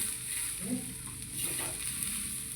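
Leftover chapati being stirred in a pan with onion and tomato, giving a steady soft sizzle with faint scraping of the spoon, moderately close and without talk.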